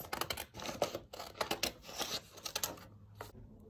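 Close, crisp snips and rustles of scissors cutting paper come in quick irregular bursts, with short pauses near the end.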